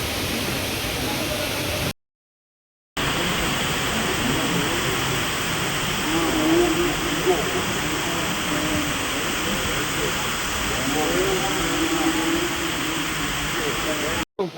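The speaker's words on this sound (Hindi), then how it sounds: "यहाँ पे वाटरफॉल चालू है।" Steady roar of falling water at Domzira waterfall, a broad continuous rush heard close and fairly loud, cut by one short silent gap near the start.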